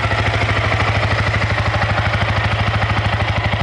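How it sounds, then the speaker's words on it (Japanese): A Yamaha YZF-R15 155cc single-cylinder motorcycle engine idles steadily close by, with a fast, even putt-putt pulse and no talking. "エンジン音はね、まあ普通の単気筒のね、150cc ぐらいのバイクかなという"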